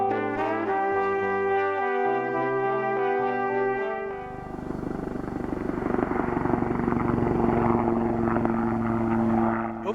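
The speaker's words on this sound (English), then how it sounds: "Overhead, military helicopters seemed to be practicing maneuvers." Military helicopters fly overhead while practising manoeuvres above the Anza-Borrego desert, a steady loud rotor thrum and whine swelling into a broad, roaring wash as they pass close by, with no voices.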